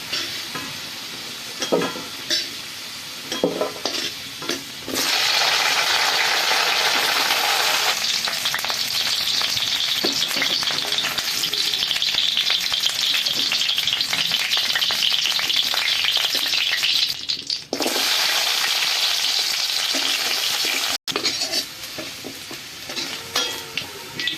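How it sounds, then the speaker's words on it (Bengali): Potatoes and mixed vegetables fry in hot oil in a kadai, giving a loud, continuous sizzle with occasional stirring scrapes and a brief dip near the end. "সবজিগুলো সব ভেজে নিয়েছি"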